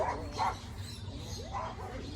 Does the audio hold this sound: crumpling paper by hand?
no